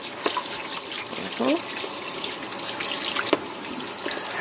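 Tap water runs steadily over a turkey being washed in a sink, a continuous close splash with small knocks, while a voice speaks briefly over it.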